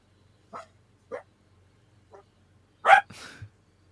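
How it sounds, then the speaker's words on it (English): Excited dogs in a home, a few short, sharp barks spaced about half a second apart, then a louder bark followed by a whining yelp, over a low steady hum. "So my dogs are kind of wild."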